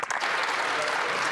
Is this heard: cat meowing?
no